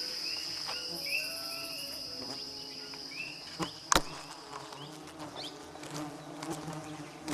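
Wild honey bees buzz around jungle hives on tree branches, a steady insect hum with scattered individual bees passing close, crickets chirping faintly beneath and a sharp click near the middle.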